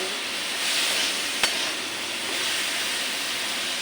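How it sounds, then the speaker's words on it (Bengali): Spices with pasta masala frying in a pan, a steady broadband sizzle with a faint hiss, close and even throughout, broken by one sharp click near the middle, no voices. "এবার এটা ভাজা ভাজা হবে"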